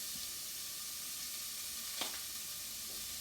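Garlic, about a tablespoon of it, sizzles in a pan over low heat for a keto tomato sauce, giving a steady, quiet frying hiss with one brief stir or spatter in the middle and no talking.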